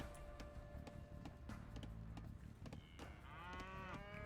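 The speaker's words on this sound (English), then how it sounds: "Oh, Viper's only found one cow." Cattle moo in the Age of Empires Nomad map, several drawn-out lowing calls over busy in-game ambience with scattered clicks and clatter, fairly close and clear.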